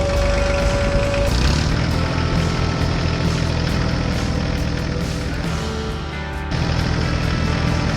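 A farm tractor fitted with a front plow runs steadily on a snowy farm after an overnight snowfall, its deep engine drone loud and continuous with a slight dip in level near the end.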